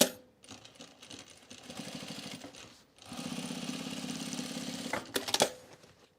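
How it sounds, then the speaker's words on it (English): Sewing machine top stitching the curved yoke of a pair of jeans, two bursts of rapid mechanical chatter separated by a brief pause, then a few clicks and a short final run, close and fairly quiet. "now I'm just going to top stitch these separately"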